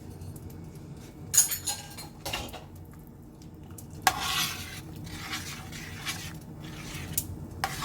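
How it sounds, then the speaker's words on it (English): Shrimp tossed and stirred into a pan of mushroom pasta, with scattered utensil clinks and scraping bursts over a low background, a few louder stirring strokes standing out. "Mix that in, and then I'm just gonna toss in that shrimp."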